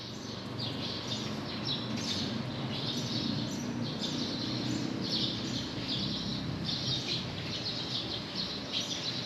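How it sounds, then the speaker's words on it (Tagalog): Birds chirp and sing outside a room in the Philippines, faint repeated high calls over a steady low background hum, no talking. "Sabayan pa ng huni ng ibon, mapapaemot ka talaga."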